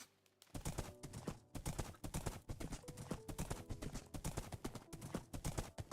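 Horse hooves clip-clop in the Minecraft video game in a steady, fairly loud and close rhythm, with no talk.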